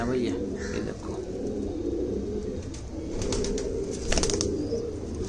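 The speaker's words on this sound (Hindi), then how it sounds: "कबूतर है भाई।" Pigeons coo softly at a pigeon show amid rustling and brief wing flaps, under steady background chatter and crowd noise.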